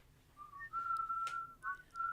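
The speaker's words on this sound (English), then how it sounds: "Short Boy would whistle a song" A quiet, clear whistled melody of a few sustained notes with small pitch slides, heard alone.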